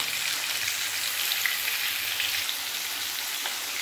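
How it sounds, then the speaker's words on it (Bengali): Pieces of yam and potato fry in hot oil, a steady dense sizzle lasting throughout at an even level with no talking. "ওল আর আলু ভালো করে ভেজে নেবো আমি"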